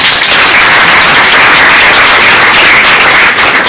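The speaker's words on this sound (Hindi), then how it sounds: "फिर भी पहले जोर से ताली बजाओ" An audience claps loudly and continuously at a police recruitment topper event, a dense, harsh wash of hand claps filling the whole moment with no speech over it.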